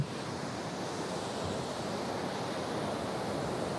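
Sea waves break and wash continuously on Teknaf beach in Bangladesh, a dense, steady roar of surf with some wind, and no voices.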